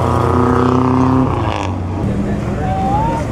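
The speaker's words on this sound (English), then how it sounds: "Another V16. Ooh, look at this Cadillac." A classic Cadillac V16 drives past at a concours show, its engine a loud, close, tonal hum that shifts pitch as it goes by and then fades into ambient crowd noise.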